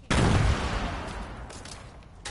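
Gunfire in the Star Wars Battlefront video game: a loud burst at the start that fades into a rumbling, noisy wash of distant shots, with a sharp crack near the end.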